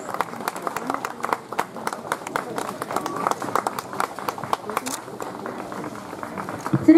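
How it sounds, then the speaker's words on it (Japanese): Warm, sustained applause from a crowd at an All Japan Trials Championship awards ceremony in Kyushu, many hands clapping densely and continuously, with a brief voice near the end. "盛大な拍手をお願いいたします。"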